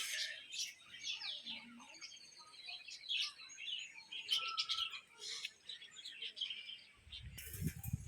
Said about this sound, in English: Budgies.